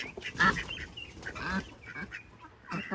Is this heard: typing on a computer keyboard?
no